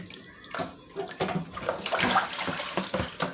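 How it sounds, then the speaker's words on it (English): Tap water runs steadily into a sink while pork neckbones are rinsed, a continuous splashing wash with irregular louder spurts and clatter, close and moderately loud with no talking. "That's why I have the water running continuously."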